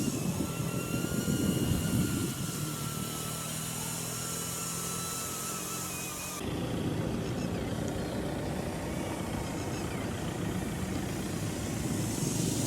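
A radio-controlled UH-60 Seahawk model helicopter with GPS flies in strong wind, its steady high rotor and motor whine running loud and continuous throughout, with a brief drop in the upper tone partway through.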